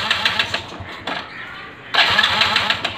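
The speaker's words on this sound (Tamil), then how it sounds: "இப்போ நம்ம ஸ்டார்ட் பண்ணால் வண்டி ஸ்டார்ட்டே ஆகாது" A motorcycle with its kill switch off cranks but does not start, two bursts of loud, whirring starter-motor grinding separated by a short pause, close by with no engine catching.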